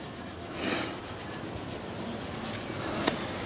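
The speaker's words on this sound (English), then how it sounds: "Sanding, but you're just smoothing it out anyway." Rhythmic sanding strokes rasp back and forth at a steady pace, close and fairly quiet, ending with a sharper scrape.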